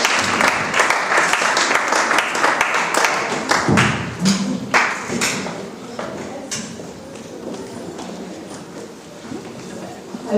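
A church congregation at a Sunday worship service applauds loudly and cheers, the dense clapping peaking early and then thinning, with voices calling out over it.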